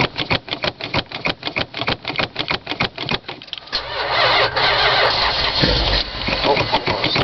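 A 1978 Dodge Ramcharger engine on a cold start with a pedal shot: close, steady rhythmic starter cranking for several seconds, then the engine sputters and catches into a loud, rough, uneven roar with no talking.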